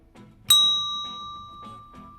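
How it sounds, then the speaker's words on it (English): A single bright bell ding rings out in a children's animated sorting game. Its clear tone lingers and fades slowly over about two seconds above soft background music. "Let's ring that bell and bring Iron Man back."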